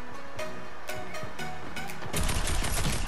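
A laser tag weapon fires on a video game map: a series of sharp synthetic shots spaced apart, then a denser, louder burst of rapid fire at the end.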